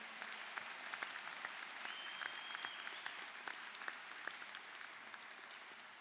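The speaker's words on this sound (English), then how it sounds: "Let's give them a round of applause to show our appreciation." A large audience at a university commencement ceremony applauds with steady, continuous clapping, heard at a distance and evenly sustained throughout.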